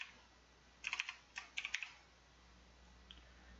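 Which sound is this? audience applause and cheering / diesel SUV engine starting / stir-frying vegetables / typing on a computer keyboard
typing on a computer keyboard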